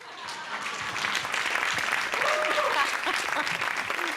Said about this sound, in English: please start clapping right now.